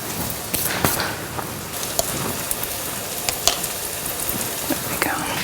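Garlic and onions sizzle steadily in a pan, a dense crackling hiss with scattered sharper pops throughout, close and continuous, with no speech.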